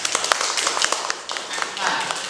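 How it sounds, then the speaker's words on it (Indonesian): Trainees at a stock-trading workshop clapping together, a brisk uneven patter of hands that overlaps with voices talking throughout. "kita bisa tepuk tangan buat kita semuanya ya"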